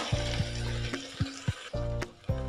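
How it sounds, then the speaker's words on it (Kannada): Green peas fry in hot oil with onions in a pan, a steady sizzle broken by several sharp scraping strokes of a spoon stirring them, close and loud with no talking. "ಈಗ ನಾನು ಮೊದಲು ಬಟಾಣಿಯನ್ನು ಸೇರಿಸ್ಕೊಂಡು ಅದನ್ನು ಒಮ್ಮೆ ಎಣ್ಣೆನಲ್ಲಿ ಹಾಕ್ಕೊಂಡು ಮಿಕ್ಸ್ ಮಾಡೋಣ"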